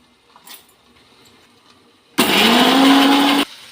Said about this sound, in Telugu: ఇప్పుడు పచ్చిమిరపకాయలు మిక్సీ పెడదామండి